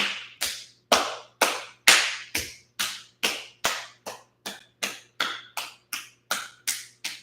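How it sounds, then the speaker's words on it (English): Cupped hands clapping against a bare foot during a massage, a steady series of about sixteen crisp, close slaps at an even brisk rhythm with nothing else heard. "let's take the hands and clap. One hand to the top, one hand to the bottom of the foot, up and down."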